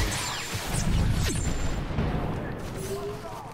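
Booming, rumbling battle noise in a video game, with sentry turrets and troops firing amid explosive impacts, loud at first and gradually fading.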